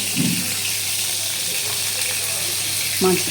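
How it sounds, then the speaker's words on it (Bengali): Pointed gourd slices and fennel seeds frying in a pan give a steady, close sizzle throughout, with a brief brighter burst of crackle near the start and again near the end. "পটলগুলো ভাজতে ভাজতে মৌরিটাও ভাজা হয়ে যাবে"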